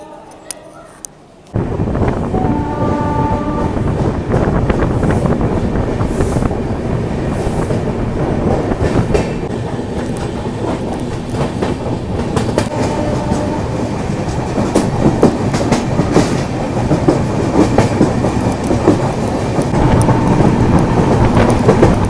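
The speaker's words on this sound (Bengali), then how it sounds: "মেদিনীপুর 2 নম্বর প্ল্যাটফর্মে ট্রেন এসছে।" The 12883 Rupashi Bangla Express sounds at Medinipur station platform 2. After a quiet opening, a loud, sustained rumble and rhythmic wheel clatter roll on steadily and close by.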